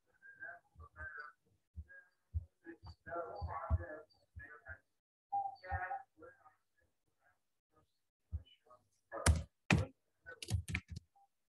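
Computer keyboard keys tapped in short bursts to correct a typo, quick clicky strokes scattered between stretches of a person talking, with a flurry of sharper, louder keystrokes near the end.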